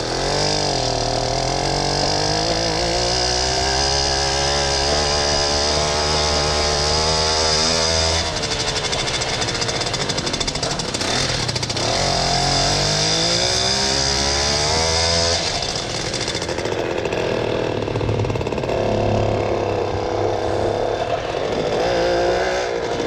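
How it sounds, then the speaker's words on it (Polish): A small Motorynka moped engine runs continuously and loudly close by, its buzzing two-stroke note rising and falling as the throttle changes, with brief surges and a rougher stretch midway. "No, więc motorinka chodzi."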